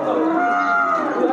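A native bull at a busy Shahjahanpur cattle market before Eid al-Adha gives one loud, close, sustained moo lasting the whole moment.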